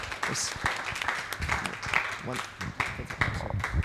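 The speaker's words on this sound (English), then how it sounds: "Let's give a round of applause to our speakers." Audience applause, a steady crowd clapping at moderate volume, with a few voices mixed in.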